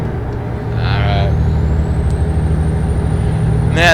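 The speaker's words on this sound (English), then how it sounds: "I love the sound of this Detroit engine" Detroit diesel truck engine in American Truck Simulator drones steadily throughout, with a sharp air brake hiss bursting at the end; the engine is loud and close, and no one speaks over it.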